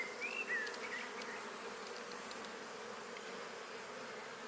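Honeybees buzz faintly around a hive frame that holds fresh nectar and pollen. A soft continuous drone carries a brief rising and falling whine near the start.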